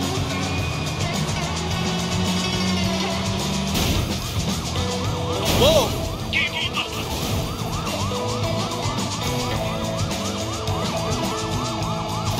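A police car siren in the open-world game Sleeping Dogs wails in repeating up-and-down sweeps over steady traffic and engine noise, with a brief louder burst partway through.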